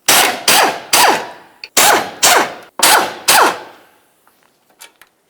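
Loud bursts from a pneumatic impact gun ring out as bolts securing a 2007–2012 Nissan Sentra engine mount to the body are removed, coming in two quick groups of sharp rattling hits before fading to faint clinks.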